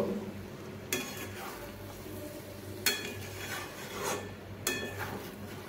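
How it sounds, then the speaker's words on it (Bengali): Gobindobhog rice pulao is stirred in a pan, soft rasping scrapes of a spoon through the rice over a faint sizzle, with three sharper scrapes against the pan spaced a couple of seconds apart. "এইবার আমি এইভাবে সব মিশিয়ে নিচ্ছি, একটু নেড়ে নেব।"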